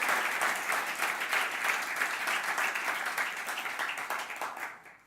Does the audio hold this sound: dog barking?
no